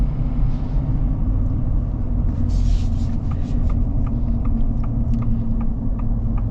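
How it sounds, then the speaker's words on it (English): Inside a Harley-Davidson edition Ford Super Duty diesel pickup with a 10-speed transmission while it drives, a steady, smooth low rumble of engine and road noise continues without a break and no one speaks. "these modern diesels are great in terms of how they feel and drive and all that"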